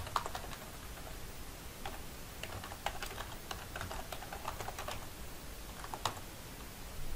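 Fast, steady typing of an email address on a computer keyboard, a continuous run of light clicking keystrokes with a few sharper taps, close and fairly quiet with no voices.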